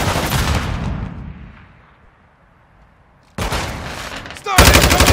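Rapid bursts of loud video-game gunfire, close and harsh, open the clip, fade into a quieter lull, then resume as intense sustained shooting.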